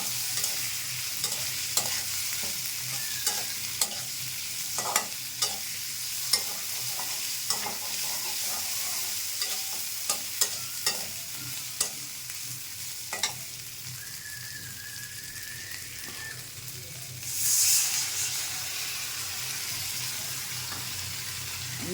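Spices and green chilies fry in a pan for a Bengali tengra fish curry with potato and tomato. A continuous close sizzle runs under regular utensil scrapes and taps. A louder hissing burst comes near the end. No speech.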